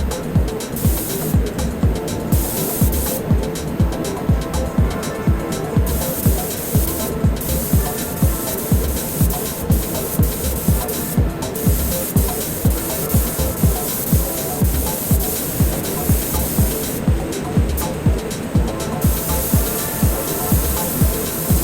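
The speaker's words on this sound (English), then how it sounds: "I got through about 4 litres of lacquer." Lacquer sprays onto the body panels of an Alfa Romeo 155 under restoration in a steady, rhythmic series of close hissing bursts that pulse regularly with brief pauses, loud and without speech.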